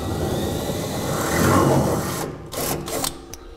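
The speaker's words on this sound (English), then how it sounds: "Now we're going to drill a 1/4-inch hole through the template straight up into the bed." A power drill bores a 1/4-inch hole through a template up into the bed of a 2011 GMC Sierra truck during a gooseneck hitch install, a loud steady whirring grind that rises, then stops with brief clanks.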